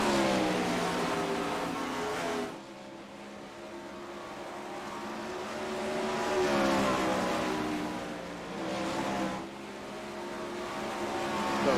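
Non-wing 410 sprint cars race at Volusia in a sim racing game, loud engines revving and howling past in waves, fading briefly between passes before roaring back up, no talk.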